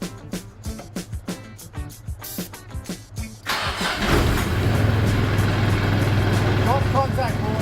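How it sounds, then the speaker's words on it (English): An old car cranks briefly with rhythmic starter turns, then the engine catches and settles into a steady idle, with voices talking over it. "It was so good to hear the car start."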